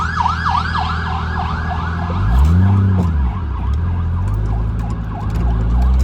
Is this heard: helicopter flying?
no